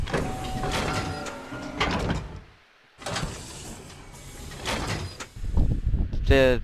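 Sliding elevator doors in Minecraft, heard as two long, fairly loud whooshing slides separated by a brief silence, followed by a short buzzy mechanical clatter at the end, with faint voices mixed in.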